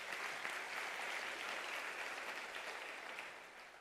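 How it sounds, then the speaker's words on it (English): A graduation audience at the UNISA autumn ceremony applauds, dense sustained clapping from a large hall crowd, fairly distant and steady, tapering slightly toward the end. "I think it deserves a round of applause,"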